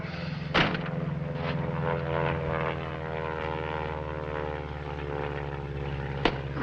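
Airport ambience from a 1940 radio drama, with a steady propeller airplane engine drone and low rumble running throughout, plus a couple of sharp clanks near the start and end.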